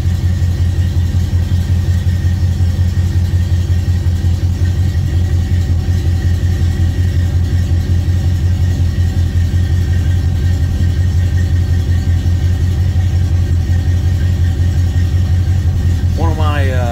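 A stock 1971 Chevrolet C10 truck with aluminum intake and headers idles after a cold start, a loud, close, rumbling steady lope that runs without a break, with a brief rising whine near the end.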